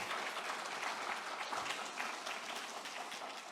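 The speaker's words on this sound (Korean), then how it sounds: "박수로 한번 환영하겠습니다" A church congregation applauds to welcome visiting worshippers, sustained even clapping from many hands carrying on for several seconds at moderate room distance, slowly easing near the end.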